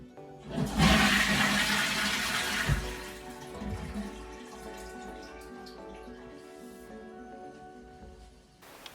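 A toilet cistern with a newly fitted flush plate flushes indoors in a bathroom, a close rushing gush of water that tapers into a quieter trickle and refill hiss.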